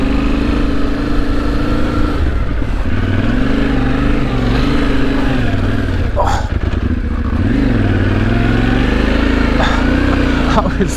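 A 2025 Yamaha Tenere 700 motorcycle riding on a sand island, its engine loud and close with a steady drone that shifts pitch as it revs, with wind rumble underneath.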